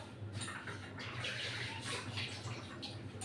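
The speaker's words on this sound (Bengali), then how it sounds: "আরও হাফ কাপ জল দিলাম" Water pours steadily into a pan of sugar syrup made with sugar, water and four cardamom pods, a continuous rushing splash lasting about three seconds, close and fairly quiet, with no talking.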